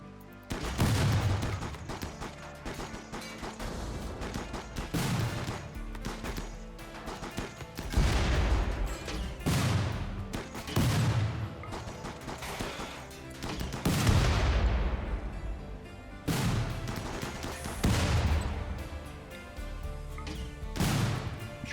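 Gunfire in the colony video game RimWorld, repeated loud shots and heavy impacts, some in rapid bursts, spaced every second or two with ringing decays over a busy game soundscape.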